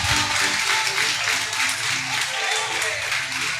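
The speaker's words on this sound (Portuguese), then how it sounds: "Essas palmas é para Jesus." A church congregation claps together in a fast, steady rhythm during worship, loud and sustained, with a voice and music running underneath.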